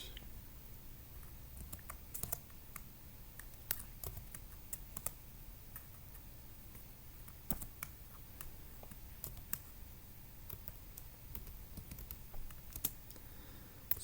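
Fingers type a command on a computer keyboard, quick irregular clicks and taps in a steady patter, close and fairly quiet, with no talking.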